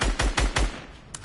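Four rapid gunshots crack out in quick succession during a Fortnite match, loud and close, followed by a short pause and a single fainter shot near the end.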